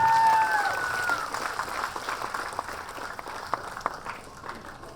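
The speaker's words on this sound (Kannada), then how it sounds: "ದಯವಿಟ್ಟು ಚಪ್ಪಾಳೆ ಜೋರಾಗಿ ಜೋರಾಗಿ." Scattered, moderately loud clapping from an audience at an annual day function at Rajkumar Kalabhavan, sparse individual claps rising and falling while a voice carries on over it.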